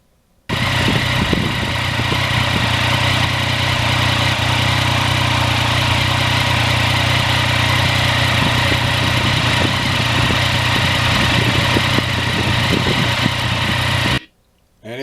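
A 2020 Yamaha MT-09 motorcycle engine idles close by, a loud, even, unbroken hum for about fourteen seconds.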